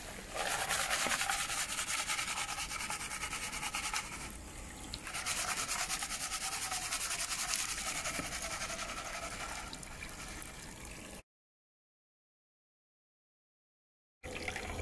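Gold pan swirling water and gravel while working material for fine gold, a steady wet scraping and rubbing churn that runs loud and continuous for about eleven seconds, cuts out, then starts again.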